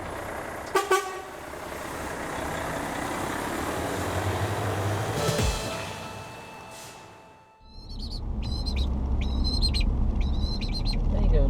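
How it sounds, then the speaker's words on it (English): A pet crow riding in a moving vehicle gives a run of about four short, harsh calls at close range over the vehicle's steady low rumble. "That's your little happy crow, isn't it?"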